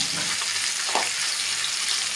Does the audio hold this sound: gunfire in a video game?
no